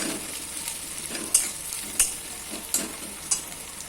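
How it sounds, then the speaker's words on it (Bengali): Onions frying in a pan for an ilish fish-head chal kumro ghonto, with a steady sizzle broken by several distinct scrapes and knocks of a spoon stirring them. "পেঁয়াজটা লাল না হতে কিন্তু নাড়তে থাকবে।"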